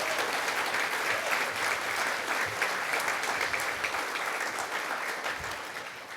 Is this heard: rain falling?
no